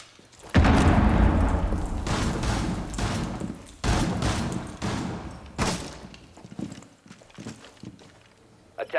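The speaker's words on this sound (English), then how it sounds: "Kush has already taken a bit of a beating from some of these fast explosives and the shots coming through." Rapid bursts of gunfire and sharp explosive booms from fast grenades in a Rainbow Six Siege pro league match, loud and clustered in heavy volleys with brief lulls between them.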